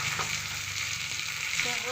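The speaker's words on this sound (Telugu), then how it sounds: "కొంచెం జీలకర్ర అలా తాలింపు అన్నమాట" Cumin and fenugreek seeds with curry leaves and dried red chillies tempering in hot oil, a loud, dense, continuous close sizzle and crackle throughout, with no talking.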